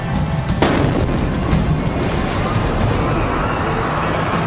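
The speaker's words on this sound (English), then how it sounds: "Twin explosions shatter a celebration" Twin explosions at the Boston Marathon as carried in news footage: a loud sharp blast early on, then a sustained roaring rumble of noise and crowd commotion that stays heavy to the end.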